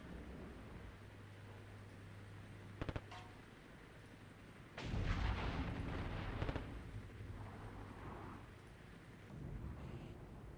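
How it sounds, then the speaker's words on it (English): Artillery fire in the war game Armored Brigade II, a couple of sharp distant reports followed by a louder rolling barrage of blasts and crackling impacts, then fading rumble. "There goes our artillery hitting the box."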